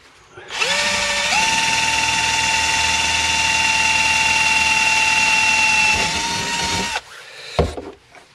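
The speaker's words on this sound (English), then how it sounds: "I'll drill that one in there like so" A power drill whines loudly at a steady pitch for several seconds, rising slightly as it bites in, then stops, followed by a brief clatter.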